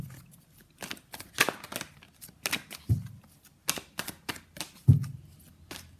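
Tarot cards are shuffled and pulled in irregular bursts: crisp riffling flicks and soft slaps of cards being laid down, moderately close, in a quiet room with no talking.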